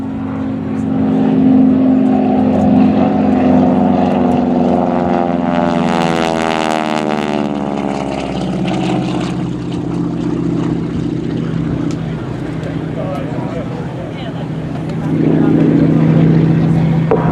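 An AT-6 airplane's Pratt & Whitney radial engine drones loudly and steadily nearby at an air show, its pitch sweeping as it passes, with a deep rumbling throb throughout.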